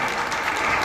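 An audience claps for a child at a rural dance academy's annual event, a dense, even burst of applause with no talk over it.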